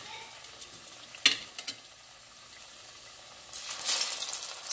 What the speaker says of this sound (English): Okay, I'm gonna fry them again.